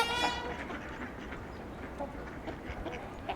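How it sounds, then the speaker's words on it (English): Ducks quack at a trumpeter swan site, a loud squawky burst at the start giving way to steady outdoor noise with scattered calls rising through it. "There's a lot of familiar quacking sounds"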